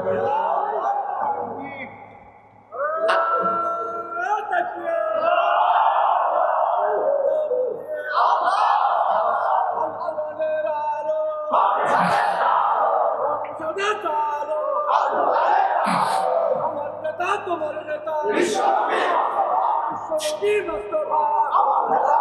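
A large mosque-style religious gathering roars takbir chants in unison answering a Bangla Islamic preacher, repeated loud waves of crowd shouting with brief pauses between them.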